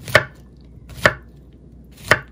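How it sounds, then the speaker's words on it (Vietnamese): A knife chopping fresh pineapple on a cutting board, three loud, evenly spaced thuds about a second apart in an otherwise quiet setting. "Mình xắt một ít khóm tươi này nữa."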